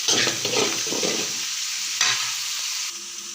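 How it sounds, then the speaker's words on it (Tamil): Onions sauté in a pan for South Indian pudina rice, a steady close sizzle punctuated by a few scraping stirs of the spoon, fading slightly toward the end. "நல்லா வணங்கிருச்சு வெங்காயம்"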